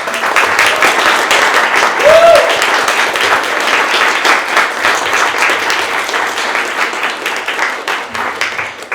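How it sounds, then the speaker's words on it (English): A round of applause from the audience at a book release event, sustained crowd clapping that stays loud and even for around nine seconds before thinning slightly at the end. "Let's do one more round of applause."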